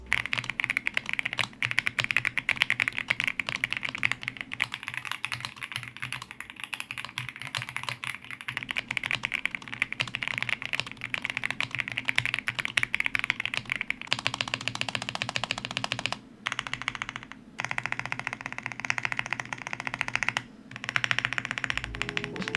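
Fast, continuous typing on a budget $50 mechanical keyboard with linear switches, smooth clacky keystrokes close up with a few brief pauses, no voices.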